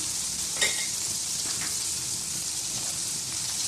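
Turmeric and chili powder sizzle steadily in hot oil for a shrimp and eggplant curry, a constant close frying hiss with one brief clink near the start and no talking.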